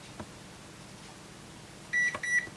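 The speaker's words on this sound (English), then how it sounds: "And you notice it does 2 beeps" Two short, bright electronic beeps in quick succession from a UNI-T UT612 LCR meter over a quiet background hum.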